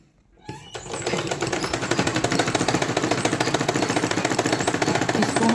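A sewing machine runs steadily while stitching a blouse lining, its fast even needle clatter starting after a brief pause and continuing loud and close, with a few words spoken over it at the start.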